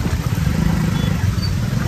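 A Kawasaki H2R motorcycle engine rumbles steadily up close while riding off-road in rain, a continuous low, rough drone with clattering texture and no pauses.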